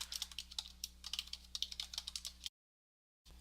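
Fast, steady keystrokes clatter on a computer keyboard as a question is typed, close and clear, then stop abruptly into silence.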